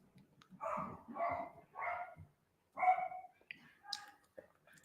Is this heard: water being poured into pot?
no